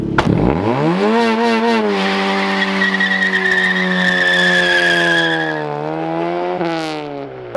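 Honda Civic EK with a new turbo kit spinning its tires in a burnout attempt, a loud close tire squeal and rising engine whine held for several seconds before dropping off.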